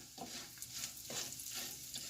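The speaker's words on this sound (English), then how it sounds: "now you hear it sizzling. You hear that sizzle." Beef and broccoli sizzles steadily in oil in a hot pan, a constant crackling hiss with a few louder scraping stirs of a wooden spoon.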